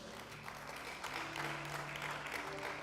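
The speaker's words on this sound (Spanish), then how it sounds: "Denle un aplauso a Dios" A church congregation applauds during a sermon, a soft, quiet wash of clapping with a faint low hum beneath that swells slightly toward the end.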